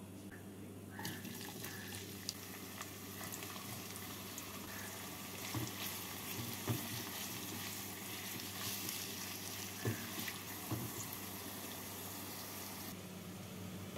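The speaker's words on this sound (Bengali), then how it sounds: "এই পেঁয়াজ থেকে কিছুটা পেঁয়াজ ভেজে বেরেস্তা বানিয়ে নেব" Chopped onions, about 250 grams, frying in hot oil to make crispy beresta for chicken pulao, a faint steady sizzle with occasional small pops, no voices.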